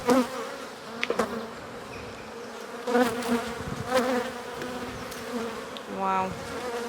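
Honey bees buzzing around an open hive during the first inspection of the year, a dense, close swarm drone with individual bees whizzing loudly past now and then.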